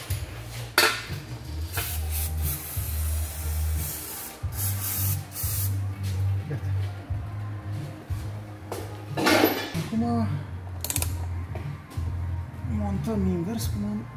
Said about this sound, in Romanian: să dăm un pic cu spray